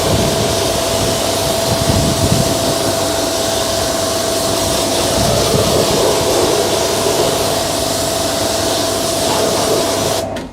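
A car wheel and tyre being rinsed with a jet of water after cleaning, a loud, steady, close hissing spray running without a break for about ten seconds, then cut off abruptly, with no talking.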